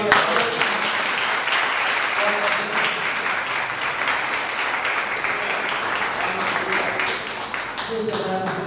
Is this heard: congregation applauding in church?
yes